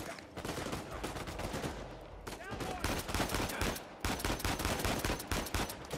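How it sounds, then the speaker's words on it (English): Rapid gunfire rattles through dense in-game combat in the Uncharted action game, with bursts of pistol and automatic shots layered over a constant loud battle din. "those pistol shots were atrocious"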